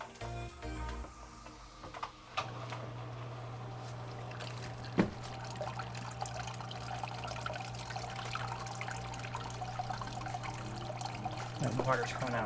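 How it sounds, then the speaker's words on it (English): Water pours and trickles steadily from the feature of a 75-gallon paludarium, a soft continuous splashing over a low pump hum, with occasional brief knocks. "The water's coming out real fast right now."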